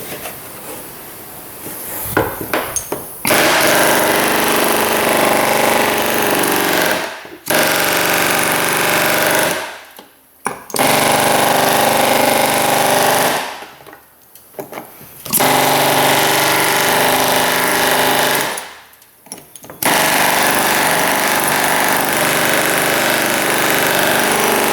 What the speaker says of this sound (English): See the air hammer?